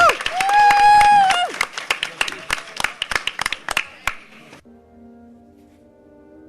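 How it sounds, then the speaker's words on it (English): A podcast panel audience claps loudly for the moderator at a convention, dense applause with cheers and a voice over it, thinning into scattered claps before fading to a quiet hum. "Can we get a round of applause for our moderator, James, please?"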